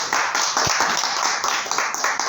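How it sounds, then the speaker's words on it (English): Toastmasters club members give a short round of clapping, a brisk close burst of overlapping handclaps lasting a couple of seconds with no talking. "a round of applause as well"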